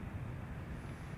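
A KLM Boeing 787 airliner taxiing at MSP airport gives a steady, low engine rumble that holds at an even level throughout, with no talk over it.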